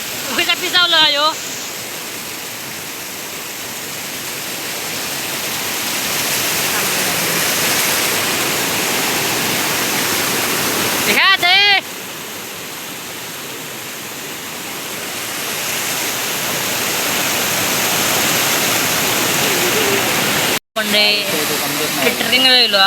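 A hidden monsoon waterfall in Konkan roaring in a steady, loud, close rush of falling water that runs almost without a break, with brief voices heard faintly at moments.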